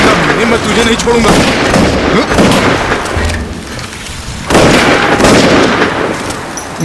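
Loud bursts of gunfire from a movie scene crack in rapid clusters with booming echoes, separated by a brief lull, amid shouting in Hindi.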